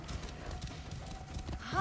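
Horse hooves clip-clop in the video game Assassin's Creed Origins, a quick, steady run of soft hoofbeats under game ambience, fairly faint, with a brief higher sound near the end.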